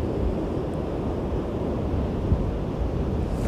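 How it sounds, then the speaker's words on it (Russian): Stormy sea at Anapa beach with a strong side wind, a steady rumbling roar of surf and buffeting wind across the microphone, with no talk. "Смотрите, как море, волны, горы."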